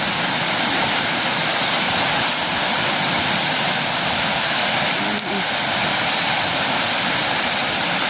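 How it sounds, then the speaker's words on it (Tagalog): Floodwater of a swollen, overflowing stream rushing past close by, a loud unbroken roar of turbulent water holding steady throughout. "Ngayon sobrang lakas na talaga kasi umakyat na yung tubig dito, maapaw na"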